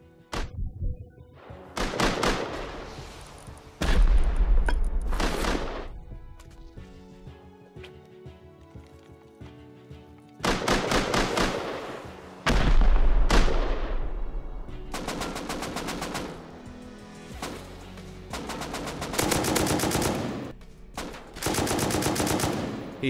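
Gunfire from the video game Rust comes in loud rapid bursts of automatic shots, several clusters separated by quieter gaps, with deep thumps under some volleys.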